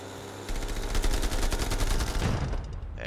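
Rapid naval gunfire from a warship in the game Russian Warship, a fast, loud, rhythmic stream of repeated shots lasting a couple of seconds before trailing off.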